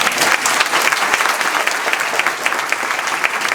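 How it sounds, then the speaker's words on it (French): A church congregation at a baptism service claps for Jesus, bright continuous applause from many hands, loud and close, with no voices over it. "on peut applaudir Jésus"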